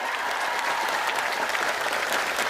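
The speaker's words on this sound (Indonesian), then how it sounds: "Tepuk tangan untuk beliau." Crowd clapping at an Islamic religious gathering, honoring a guest seated on stage, a thick, even roar of many hands, steady and fairly loud for the whole stretch with no talk over it.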